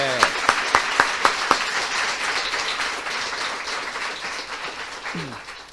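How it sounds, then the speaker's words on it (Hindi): A church congregation breaks into loud applause for the risen Lord, opening with several sharp, evenly spaced claps that swell into sustained clapping, then trails off under a brief voice near the end. "सो आइए हम ऐसे पुनर्स्थित प्रभु के लिए एक जोरदार ताली बजाएं।"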